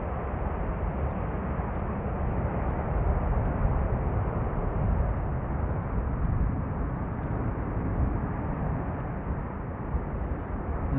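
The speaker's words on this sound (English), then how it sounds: "The reversers being deployed" Airliner landing at Amsterdam Schiphol's Polderbaan runway 18R with thrust reversers deployed, a sustained, dense low rumbling roar that swells slightly midway and stays steady, heard from a distance without speech.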